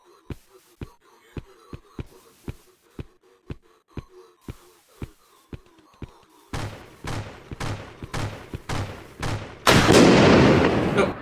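Enemy gunfire in a video game: sharp single shots crack in a steady rhythm, then grow denser and louder before ending in a heavy, sustained burst.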